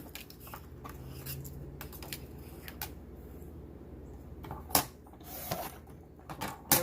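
Scissors snip through an alcohol ink card in a quiet room, giving faint, scattered cuts and paper rustles, followed by a few sharper clicks and taps near the end.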